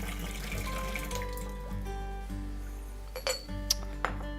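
Warm water is poured out of a teapot into a kitchen sink, a steady close splash over a constant low hum, with a few light clinks of china near the end.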